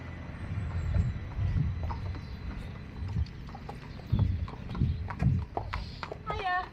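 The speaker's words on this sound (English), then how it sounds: "More horses coming." Horses walk past on a public footpath in the Bedfordshire countryside, their hooves clip-clopping in a steady, close rhythm. Faint voices and a few birds chirp near the end.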